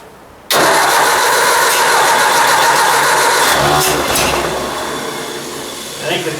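A Ford 800 tractor engine cranks and tries to catch after a brief quiet start, a loud steady churning roar that wavers and sags toward the end without settling into a clean idle.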